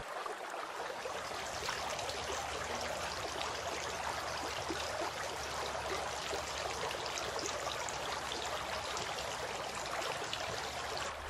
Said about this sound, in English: Rinsing the mouth.